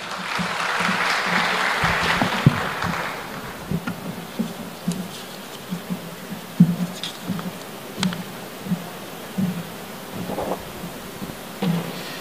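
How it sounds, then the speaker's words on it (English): Applause for Thabo Mbeki at an Africa Day lecture swells briefly in the first few seconds, then trails off into scattered claps and low noise. "let's give him a round of applause"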